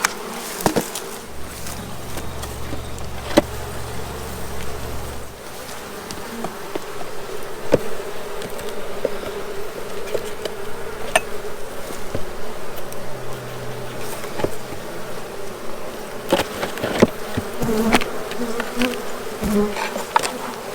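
Honeybees buzz densely around an opened hive during a honey harvest, a loud steady swarm drone that fills the whole stretch. Occasional clicks and knocks of hive boxes being handled come through close by, and there is no talking.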